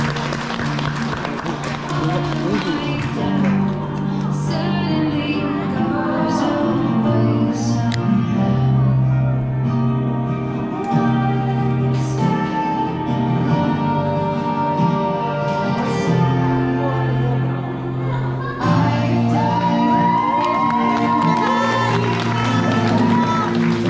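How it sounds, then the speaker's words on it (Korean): Wedding guests in a hall applaud the groom's entrance, their sustained clapping and crowd noise running under loud music throughout. "박수 부탁드리겠습니다."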